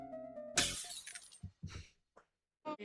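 Objects burst apart in Mesmalie with a sharp, bright glassy crash, followed by scattered tinkling fragments and a few shorter breaking bursts over a fading musical tone.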